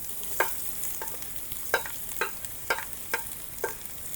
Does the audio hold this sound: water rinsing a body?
no